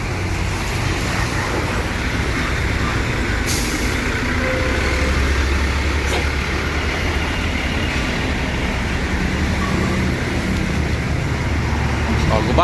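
A bus edges into a parking spot among other buses at a tour coach depot, its engine a steady low rumble under continuous traffic noise, with a short hiss partway through.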